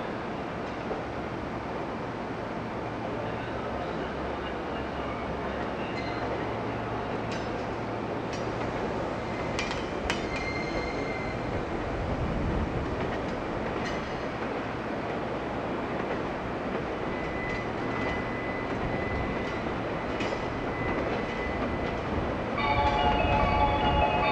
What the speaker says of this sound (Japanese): 電車宇都宮駅発車をいたします。